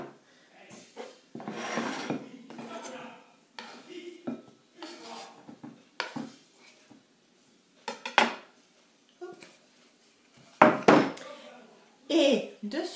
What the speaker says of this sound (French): Quand vous avez découpé votre viande en lamelles, vous allez la mettre dans un récipient.